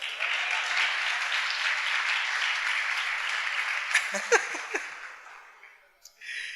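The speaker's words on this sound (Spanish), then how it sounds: "Denle un aplauso al Señor" A church congregation breaks into sustained applause for the Lord, a broad wash of many hands clapping at a steady level before tapering off, with a brief voice near the end.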